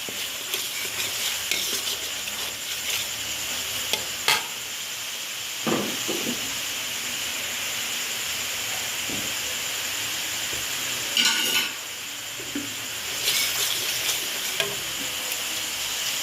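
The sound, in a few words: stir-frying spice paste for opor ayam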